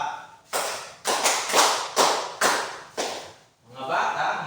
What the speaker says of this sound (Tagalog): 5 palakpak.